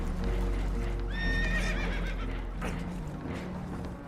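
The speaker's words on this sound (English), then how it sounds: "Horses are spooked" Spooked horses in the video game Red Dead Redemption 2 whinny loudly in a high, wavering cry over low rumbling, with clopping hooves and commotion around them.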